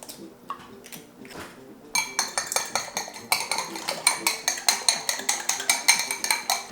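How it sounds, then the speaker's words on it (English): A utensil whisks and clinks rapidly against a pan while three eggs are scrambled, a quick repeated rhythm of sharp metallic taps that follows a few softer scrapes and grows busier, close and fairly loud. "So I'm just gonna scramble 3 eggs."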